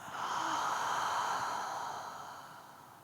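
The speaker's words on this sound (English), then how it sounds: "Deep breath and exhale out the mouth." A deep, breathy exhale pushed out through the mouth during yoga breathing, a loud sustained airy rush that swells quickly and tapers off over about three seconds, heard alone.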